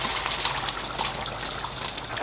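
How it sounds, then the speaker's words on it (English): Water poured into a pot of simmering lamb stew, a steady close gushing splash running unbroken throughout. "I'm going to top up more water."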